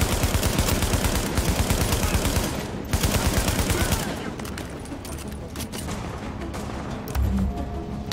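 Automatic gunfire from the player's weapon in The Division, loud rapid bursts of shots in quick succession for several seconds, then fading into quieter scattered shots and game background noise.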